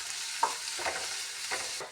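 Ginger frying in a pan and stirred with a spoon gives a quiet, soft sizzle, with a few brief scraping stirs spaced across the moment.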